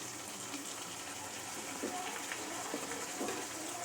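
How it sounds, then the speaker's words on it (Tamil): Yogurt being poured into a simmering biryani gravy masala in a home kitchen: a soft, steady liquid pour with faint gushing and light sizzling, quiet and continuous throughout. "இப்போ நம்ம இந்த தயிர் ஊற்றிடலாம்"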